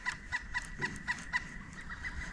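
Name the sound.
woodpecker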